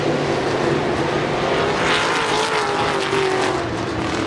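Late-model race cars roar past at a speedway race finish, a loud, continuous engine drone with shifting pitch as the cars pass close by.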